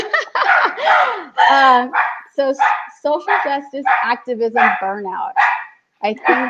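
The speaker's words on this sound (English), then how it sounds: "So, sorry, that's my dog." A dog barks a few times in the background of an online talk on mental health, under a woman's steady speech.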